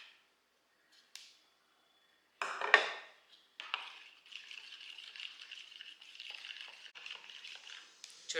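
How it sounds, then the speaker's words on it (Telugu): A whisk or spoon stirs a beaten egg, milk and green chilli mixture in a bowl for bread egg toast, a few clinks at first, then steady rapid scraping and rattling close by with no talking. "చూడండి, ఇవంతా బాగా మిక్స్ అవ్వాలండి."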